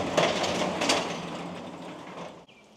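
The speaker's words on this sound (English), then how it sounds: "all we have to do is roll open this door" A continuous rolling rumble of a large trailer door rolling open in the rain, steady and close, fading off before ending with a brief clunk.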